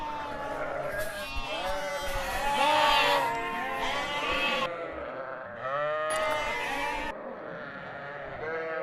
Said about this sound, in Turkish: Biraz da koyunlara bakalım. Evet koyunlara geçelim.